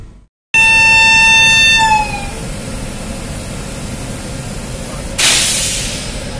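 North East express train passing a halted train, opening with a loud sustained multi-tone horn that fades into steady rushing rail noise, then a sharp burst of hissing air near the end.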